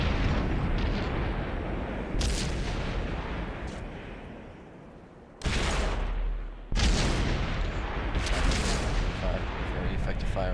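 Heavy tank cannon fire and explosions in a World of Tanks tournament match, loud, broad booming blasts recurring across the clip with sharp new onsets near the middle, over continuous battle rumble.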